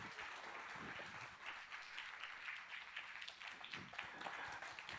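A church congregation claps steadily in welcome for a pastor, a faint, even patter of many hands continuing throughout with no talk over it.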